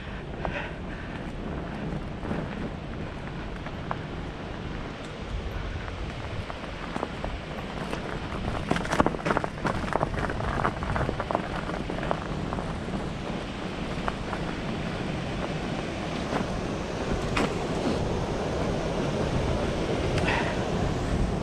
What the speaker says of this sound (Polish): O, wodospad. Już słychać Niagarę.